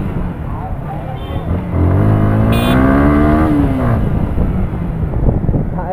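A Yamaha R15 V2 motorcycle, seven years old, accelerates hard at full throttle through a market area. The engine climbs loud and near in a rising whine, then eases through a gear change and pulls on.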